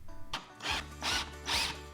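Power drill driving 1.5 inch Kreg jig screws into a wooden mid-century style dresser base, three short rising whirring bursts with brief pauses between them.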